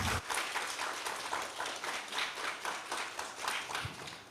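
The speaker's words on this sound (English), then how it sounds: "please give him another round of applause" An audience at an agri-food sustainability symposium gives a round of applause: soft, sustained hand clapping with a gently pulsing texture heard at a distance, with no speech over it.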